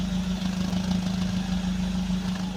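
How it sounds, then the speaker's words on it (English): A Nissan B15 engine idles smoothly after its ignition coils are replaced, a close, steady hum with an even low pulse and no misfire pops. "See, right now the engine is running smooth."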